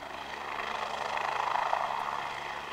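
Helicopter taxi taking off at a heliport, a steady, rushing rotor and engine roar that swells slightly, heard from a moderate distance with no talking.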